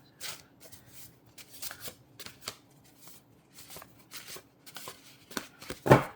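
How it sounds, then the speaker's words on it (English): Playing cards are shuffled in several quick riffling bursts separated by short pauses, close and fairly soft, ending with a louder sharper riffle. "I'm going to shuffle 2 more times"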